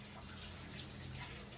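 A tap runs in a steady, faint broadband hiss as hands are wetted while making sourdough bread, a continuous close water flow with no voices.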